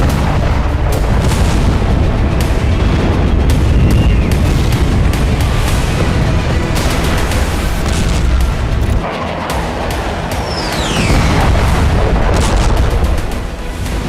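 Israeli airstrikes on southern Lebanon send heavy booms and rumbling blasts rolling through a dense, continuous roar, with repeated explosive thuds over about fourteen seconds.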